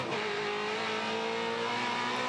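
Touring Car Masters race cars at Adelaide in 2015, engines holding a loud, sustained roar with a rising revving tone, close by.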